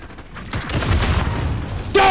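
Gunfire from a video game shooter rattles in a dense, sustained burst with low booms underneath, ending in a sharper, louder blast, while a voice shouts faintly beneath the action.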